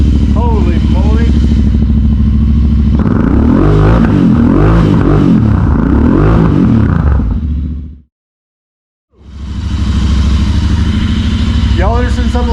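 A Royal Enfield Continental GT 650 motorcycle with ZARD exhaust pipes rumbles loudly up close, a deep throaty idle swelling into revs, cutting out briefly, then firing back to a burbling idle.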